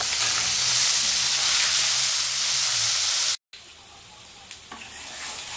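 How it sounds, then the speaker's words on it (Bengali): Small mourola fish frying in a pan of oil for a Bengali spring onion recipe: a loud, steady sizzle that runs on without a break, cuts out briefly, then comes back quieter with a few faint clicks from the pan. "মাছটা আমার ভাজা হয়ে গেছে"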